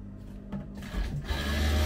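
A sewing machine stitching a garment, shalwar-style trousers, whirs into a steady, loud, close mechanical run that builds after a brief start-stop, with no talking.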